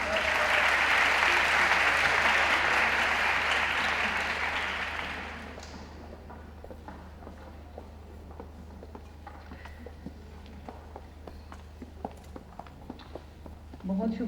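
An audience at a college Urdu poetry recital (mushaira) gives loud, dense applause as a poet comes to the stage, then the clapping fades away and leaves a quiet room with faint scattered sounds.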